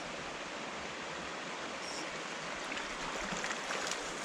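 Fast-flowing water in a remote Algonquin Park creek, a steady broadband rushing wash that stays even and fairly quiet throughout, with no voices.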